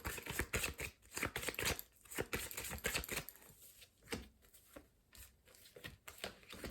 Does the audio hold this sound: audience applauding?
no